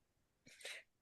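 A single quick sneeze, faint and somewhat distant, with a short inhale and then a sharp burst, in an otherwise quiet setting.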